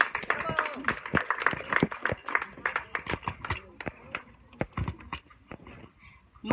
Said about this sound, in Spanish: David López Bautista y Julia Hernández, para quien pido fuertes aplausos, por favor.